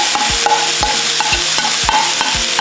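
Cabbage stirred in a hot frying pan for vegetable lumpia, with repeated scraping strokes of a utensil against the pan in a steady rhythm over a constant sizzling hiss, close and fairly loud.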